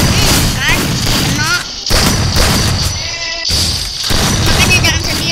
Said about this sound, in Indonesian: Baru aja menembak.